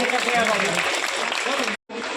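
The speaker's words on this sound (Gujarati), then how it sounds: "જોરદાર તાળી પાડીએ" A crowd at a community association's annual general meeting applauds loudly in a dense, sustained wash of clapping, which cuts out abruptly for a moment and then resumes.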